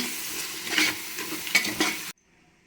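Spices such as sambar powder, pepper and chilli powder being stirred into a cooking pot, a steady scraping sizzle with a few louder stirring strokes, close up, cutting off abruptly into near silence.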